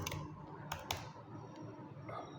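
Someone types on a computer keyboard in a quiet room, making a faint run of light key clicks with a few sharper taps.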